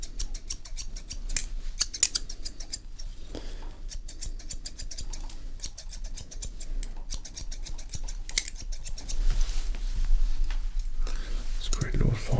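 Scissors snipping hair to layer the bottom in close-up, a run of crisp, quick cuts in short bursts with soft pauses between, near and intimate against a quiet background.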